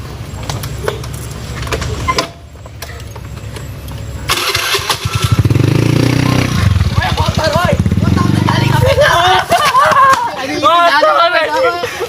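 A motorcycle engine starts and revs with a rough, rising mid-pitched drone, close by, while people talk over it.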